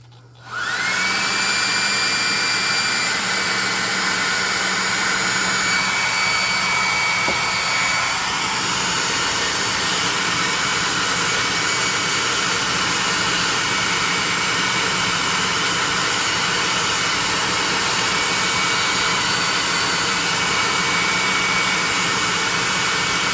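Hair dryer switched on to dry a freshly painted zombie miniature for a tabletop RPG, starting abruptly and then blowing as a loud, steady whooshing whine that continues unbroken to the end.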